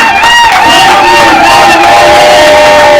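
An audience at a closing ceremony for a women's month event cheers and whoops loudly as a woman is asked to stand. The crowd noise is dense and sustained, with shouts and yells over it.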